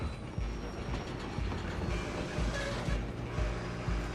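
A train in the video game Red Dead Redemption 2 rumbles along with a dense, loud mechanical roar and steady clickety-clack of wheels over rails, close and continuous throughout.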